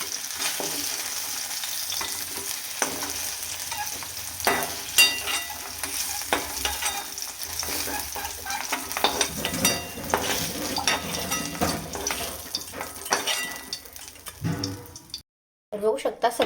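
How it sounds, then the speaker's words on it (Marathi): Ivy gourd pieces fry in plenty of oil in a pan, a constant close sizzle with frequent stirring scrapes and clinks, pausing briefly near the end. "सगळे तोंडले आहेत मध्ये एकदम मस्त तेलामध्ये छान परतलेत"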